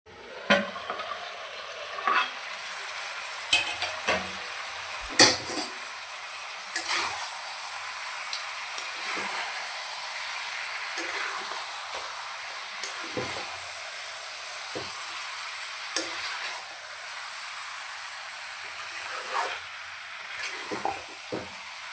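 Mutton stir-fried with spices in a pan, a steady sizzle and hiss beneath intermittent scraping and clinking of a utensil against the pan, close and continuous.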